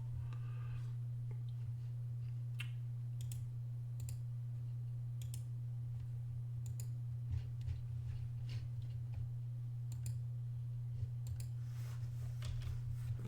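Computer keyboard typing in irregular bursts of light clicks over a constant low electrical hum, quiet and close, no speech.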